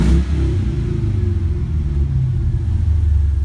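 An LS V8 engine fitted in a car with an old-style tachometer runs with a loud, steady low rumble close by, with slight pulsing but no sharp revving rise, and no voices.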